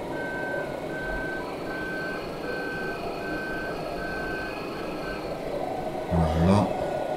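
Farm vehicle reverse alarm beeping in a steady, evenly spaced series over a low engine idle in the Belgian countryside, with a brief clatter and a voice near the end.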